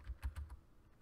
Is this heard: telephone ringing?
no